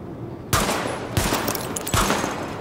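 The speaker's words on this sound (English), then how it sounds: "Open fire at the highlighted targets." Rapid automatic gunfire at highlighted targets in Tom Clancy's The Division, three sharp bursts about half a second apart with echoing tails, loud and close, no talking.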